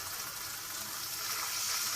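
Water is poured into Odia-style chicken curry masala in the pan, a steady close splashing and hissing gush that runs without a break for the whole moment.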